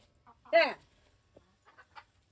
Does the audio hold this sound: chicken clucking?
yes